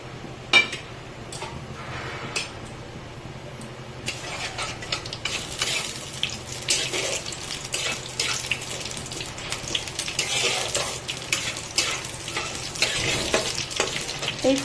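Dried red chili, bay leaf, cumin and five-spice tempering in hot oil for khichuri, a sharp crackle at first, then a dense, steady sizzle that swells and holds with occasional pops.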